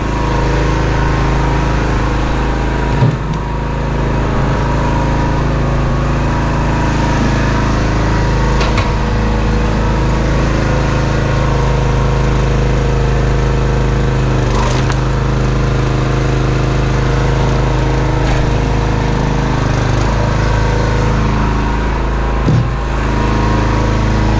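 Harbor Freight 20-ton log splitter with a 6.5 HP engine, running at a steady, loud, close-up drone with no pauses and a few faint knocks over the hum.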